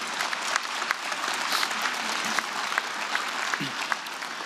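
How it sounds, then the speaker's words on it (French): A seated audience at a French-language climate talk breaks into thick, continuous applause, a sustained wash of many hands clapping at a steady level throughout. "Vous pouvez les applaudir"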